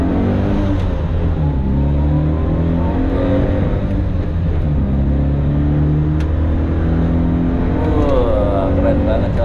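A tiny 1983 Daihatsu Hijet 1000 van's engine drones steadily up close, its pitch climbing and dipping through repeated revs, with a voice talking over it.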